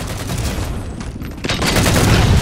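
Rapid gunfire bursts in the video game Halo 4, a dense, loud crackle of shots that swells toward the end of the brief moment.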